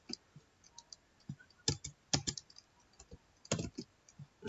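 Keys clatter on a computer keyboard as someone types a web address into a browser, a faint, close series of irregular clicks and short bursts with quiet pauses between.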